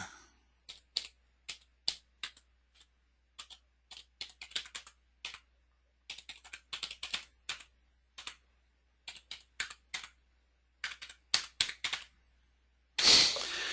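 Someone types search tags on a computer keyboard: close, crisp keystrokes in irregular bursts with short pauses, ending in a louder clatter.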